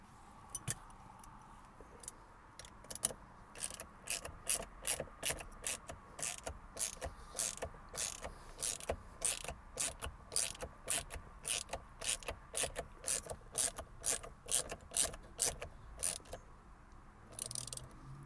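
A screw on the steering wheel of a 2009 Porsche 911 (997) Turbo being tightened, heard as a long run of crisp, evenly spaced ratcheting clicks, close and fairly quiet, with a faint hum underneath.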